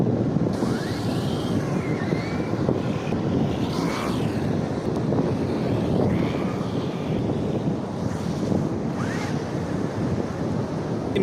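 MJX Hyper Go RC car making a 70% throttle speed run on a beach, its whining motor sweeping up and down repeatedly over steady surf and wind noise, loud and continuous throughout.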